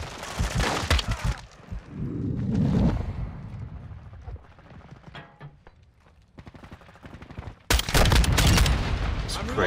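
Explosions and gunfire crash through a Call of Duty Modern Warfare II match: loud bursts of shots and booms open and close the sequence, with quieter rattling shots in between and a voice talking over parts of it.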